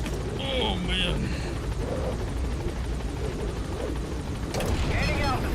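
Helicopter gaining altitude in Metal Gear Solid V: The Phantom Pain, a steady, loud rotor drone filling the background with radio-style voice chatter and game tones over it.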